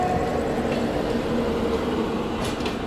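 A long-distance express train rolls steadily alongside a railway station platform at night, a dense continuous low rumble with faint metallic squeals, close and loud throughout.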